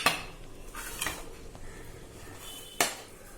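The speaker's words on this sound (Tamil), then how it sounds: "முட்டையை இதை மாதிரி திருவல்ல வச்சு நம்ம அழகாக வேக வச்ச முட்டையை திருவிக்கலாங்க" Peeled boiled eggs grated by hand for chicken bonda, giving a few scattered close scraping strokes and clinks against the grater, with one sharper knock near the end and no talking.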